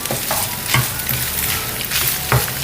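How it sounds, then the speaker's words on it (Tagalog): Onions sautéing in hot oil in a pan, giving a dense, continuous sizzle with occasional stirring scrapes, close and loud, with no one talking. "So, magisa na tayo ng ating sibuyas."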